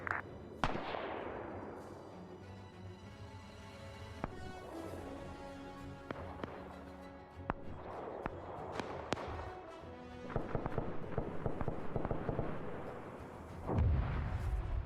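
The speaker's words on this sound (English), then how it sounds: "Air's gonna dump rockets on what I think is a Japanese mortar position" Aircraft rockets striking a Japanese mortar position in an Arma 3 World War Two battle, heavy booming blasts and rolling explosions mixed with scattered gunfire, some near and sharp, others distant, continuing in a dense barrage.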